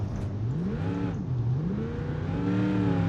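Simulated car engine with nitrous injection in BeamNG.drive, a steady loud drone with pitch rising, dipping and climbing again as it revs, no talking.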